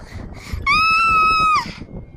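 A woman lets out a single sustained, high-pitched scream of fright lasting about a second, set within a dramatized horror story with quieter sound around it.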